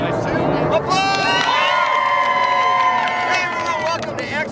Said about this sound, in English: 3, 2, applause!